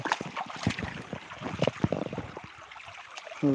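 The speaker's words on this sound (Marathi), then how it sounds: "हे बघा पाणी कसं वाहतं खळखळ खळखळ खळ" Water on a farm flows and gurgles close by in a bubbling, uneven trickle, with someone talking over it for most of the stretch.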